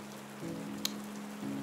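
Rain effect in a Vietnamese ghost-story audio drama: a soft, steady wash of falling rain with a low hum underneath and one brief tick, faint and without voices.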